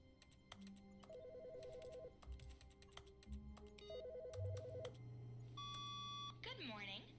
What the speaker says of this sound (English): I've never had a phone ring before.